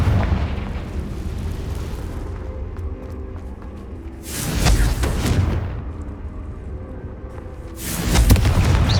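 Booming blasts from the Confringo fire spell in the video game Hogwarts Legacy, two loud bursts with rumbling decay, the first near the middle and the second at the end, over a steady game ambience.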